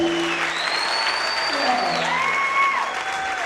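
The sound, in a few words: congregation clapping for a testimony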